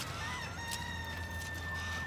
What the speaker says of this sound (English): You hear them chickens.